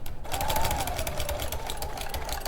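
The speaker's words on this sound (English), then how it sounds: "So I'm just going to back stitch and then go forwards." A sewing machine back stitches then runs forward on faux leather, giving a steady close mechanical whirr with rapid needle ticking, with no voices over it.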